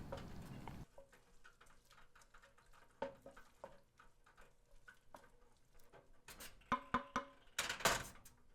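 Wine cooking off in a pan of Bolognese sauce, producing a soft, close sizzle and bubbling patter with intermittent spoon taps and stirring clinks that grow busier toward the end.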